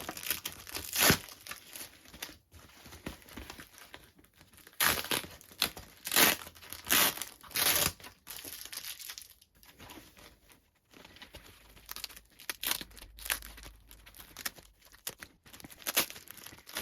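Packaging for a Pure Sensia 200D Connect radio being unwrapped and cut open, with repeated close crinkling, tearing and rustling bursts of plastic and paper throughout, no speech.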